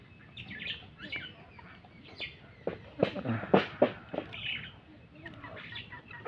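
A pet kora bird (watercock) calling as it climbs onto a hand, with soft scattered clucks that build into a cluster of louder, sharper calls close by.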